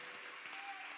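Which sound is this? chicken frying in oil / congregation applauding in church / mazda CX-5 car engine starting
congregation applauding in church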